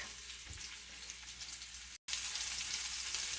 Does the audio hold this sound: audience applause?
no